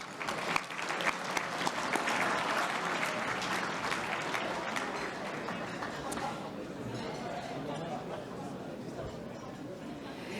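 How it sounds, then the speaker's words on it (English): Steady applause from an audience at the Football Victoria 2019 Senol Gold Medal awards night, sustained clapping from a large room that slowly fades, with chatter underneath. "Round of applause, please"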